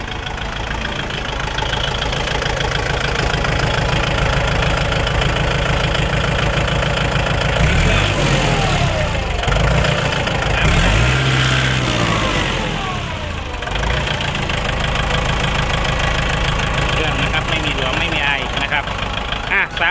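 A used Kubota L4708 tractor's diesel engine idles with a steady, loud rumbling chug, holding a constant throb throughout with a brief shift in tone midway.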